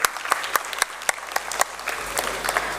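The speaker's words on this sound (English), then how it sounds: "Give a round of applause for sir." An audience at a startup ideathon event applauds an introduced guest, with scattered, distinct claps standing out over a soft bed of general clapping, fairly close and moderately loud.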